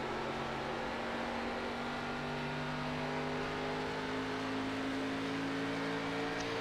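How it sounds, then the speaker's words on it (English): Race car in a sim-racing ARCA Series event at Twin Ring Motegi, the No. 31 car. A steady, loud engine drone shifts pitch slightly as it drops a gear and then moves back up, with no talk. "Heard him downshift there. Shifts back up."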